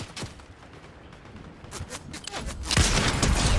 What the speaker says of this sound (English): I'm being shot everywhere.